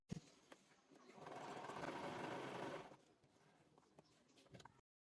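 A sewing machine stitches a blouse in one short run of roughly two seconds, a soft, muffled whirr framed by a few quiet clicks and handling taps before and after.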